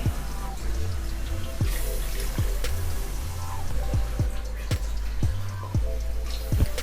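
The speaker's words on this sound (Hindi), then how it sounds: "इसमें मैंने 4 गिलास पानी के डाल दिए हैं" Water trickles and splashes into a pot of mutton with uneven dripping and gurgling, soft and close, no talking.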